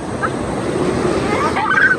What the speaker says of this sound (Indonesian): Jangan ngebelakangin ombak. Lihatnya ke ombak.